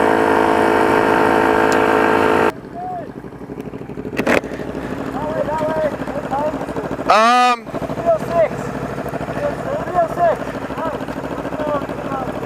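Motorcycles, including a Harley, with aftermarket exhausts idle loudly near a tunnel, then the sound drops to a quieter rumble with a brief roaring pass and scattered chirps while people talk over it.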